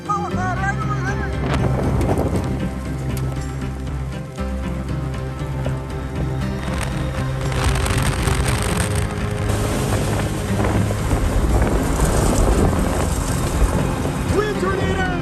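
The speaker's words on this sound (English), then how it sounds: "Tornado in progress here, approaching I-29." Strong tornado wind near Interstate 29 roars and buffets the microphone in a continuous loud rush, with a voice speaking over it and gusts swelling louder toward the end.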